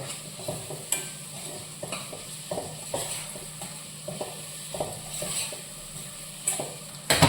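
Hot boiled potatoes are mashed with a spoon, giving a rhythmic run of soft jabs and clinks against the vessel, fairly quiet and close, with a louder knock at the end and no voices.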